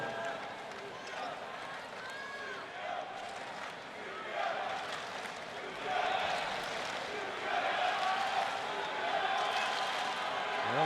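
A crowd at the US Open tennis final cheers and murmurs steadily, swelling louder toward the end, with commentators talking over it.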